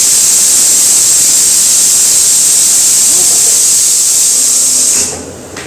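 A pressure cooker whistle lets off steam in a loud, steady hiss that cuts off abruptly near the end.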